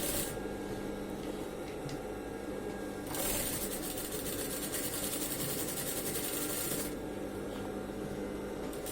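Sewing machine slowly stitching a denim patch over the thick crotch of jeans with a fine needle, a steady close mechanical whir with a louder, faster stretch in the middle.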